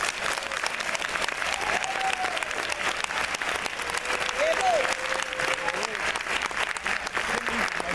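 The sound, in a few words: audience applause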